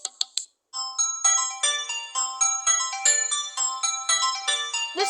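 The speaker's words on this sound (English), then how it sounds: "And the last ringtone here we got." A Samsung Galaxy A03 phone ringtone, a few quick clicks and then a bright, clean melodic pattern of repeating plucked notes played at steady volume, with no voices.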